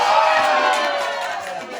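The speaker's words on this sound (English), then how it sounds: "I know it sounds kind of silly to clap for alligators, right?" A crowd at a Florida wildlife safari park cheers loudly after an alligator's jump, a dense burst of shouts and whoops that gradually eases off.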